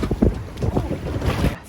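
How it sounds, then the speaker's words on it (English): Gusty wind buffets the microphone in uneven bursts at night, with faint water and rigging noise from a boat rocking at anchor in a bay. "this is the first real windy night"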